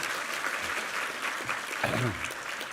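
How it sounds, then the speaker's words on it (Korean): Congregation applauding a church choir after its hymn at a Sunday worship service, a steady wash of clapping throughout, with a voice briefly speaking over it near the end. "한번 힘찬 격려의 박수 부탁합니다"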